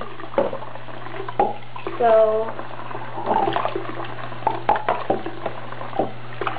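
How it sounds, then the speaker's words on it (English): Water splashes and trickles while soap is rinsed from a rabbit's water dish. Short, close splashes and dribbles come in bursts between brief spoken words. "rinse it off and try to get all the soap out"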